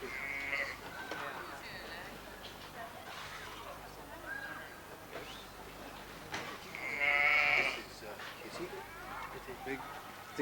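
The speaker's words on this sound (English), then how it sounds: "those are the billy goats and it's a ram" Billy goats and a ram bleat in a farmyard, several calls scattered among ongoing human talk, one louder sustained bleat standing out near the end.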